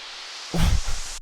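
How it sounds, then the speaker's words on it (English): A burst of static white noise from a dubstep sample pack hisses for about a second, with a low thump beneath it when it starts, then cuts off abruptly. "Some like white noise basically."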